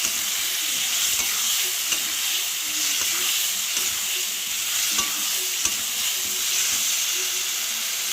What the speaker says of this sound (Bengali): ভালো করে নাড়াচাড়া করে কষিয়ে নেবো আমি মশলাগুলোর সঙ্গে আলু, পেঁয়াজ, টমেটোকে